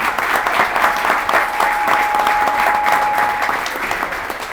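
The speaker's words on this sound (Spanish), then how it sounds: "Un aplauso para todos ustedes" Lively audience applause fills a book fair event hall, dense and continuous with bright individual claps, fading slightly toward the end, with a faint steady tone running beneath.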